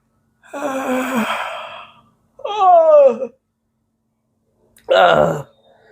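A voices three drawn-out yawn-like sighs to imitate a yawn during withdrawal from intoxication, each a loud, close vocal exhalation of a second or less, separated by short silences.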